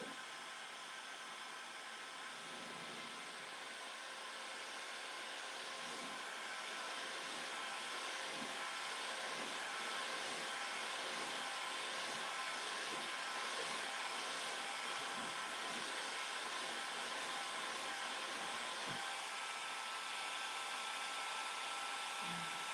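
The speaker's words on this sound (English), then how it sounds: "I'm going to use my heat gun and make it nice and soft again" A heat gun blows hot air over a plastic globe to soften it, making a steady, unbroken whooshing roar that holds its level from start to finish, close to the listener with no voices.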